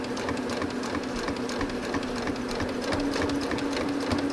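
A sewing machine stitching a quilt runs steadily at close range, giving an even, rapid mechanical whir and clatter without pause.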